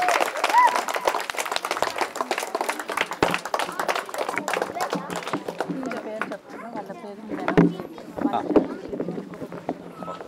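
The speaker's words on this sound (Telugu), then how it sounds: "గట్టిగా చప్పట్లు." Women at a neighbourhood rangoli competition prize ceremony clap for winners, a fairly loud, uneven burst of claps over the first several seconds that thins out, with voices and crowd chatter mixed in.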